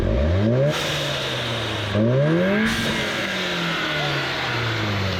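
An Audi race car at a raceway revs hard and climbs through the gears, loud and close, with sharp hissing blow-off valve bursts at each shift.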